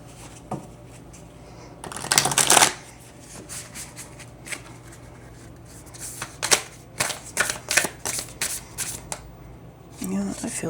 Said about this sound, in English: So let's get some oracle cards.